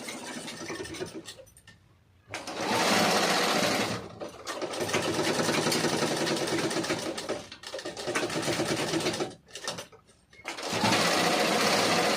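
A sewing machine runs in loud bursts while doing double stitching, several seconds of steady whirring each, separated by short pauses, with no talk over it.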